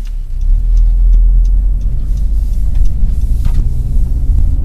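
A 2012 Honda Civic Hybrid on the road, heard as a steady low engine and road rumble with tyre noise, continuous and fairly loud throughout, with no talking.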